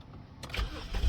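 A 2007-2013 BMW X5 engine cranks briefly and then catches, rising into a low running rumble, close by, with no talking.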